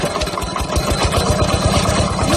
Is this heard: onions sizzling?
no